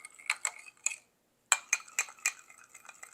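Ingredients tossed with extra virgin olive oil in a bowl, a utensil clinking and scraping against the bowl in quick, irregular taps with a short pause midway, close and fairly quiet.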